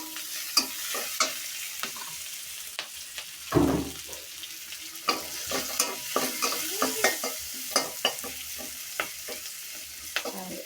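Onion and chili paste fries in a pan with a soft sizzle, broken by repeated scraping and tapping of a spoon as it is stirred.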